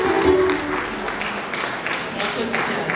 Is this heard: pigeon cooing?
no